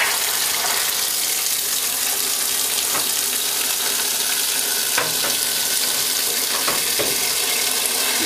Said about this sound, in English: Now to fill them with hot water.